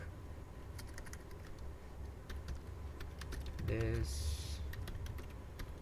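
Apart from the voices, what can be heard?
typing text on a computer keyboard in a Linux text editor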